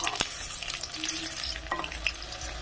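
Banana flower and egg fritters sizzle steadily in hot oil after being turned, a continuous close crackle with a few sharp clicks and small stirring knocks, no talking.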